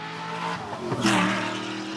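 A loud, deep LS V8 engine rumble from a swapped widebody Porsche 911 swells briefly into a throaty rev, close by, with no talking.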